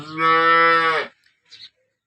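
A single long, loud cow moo lasting about a second, close by, followed by a brief faint rustle.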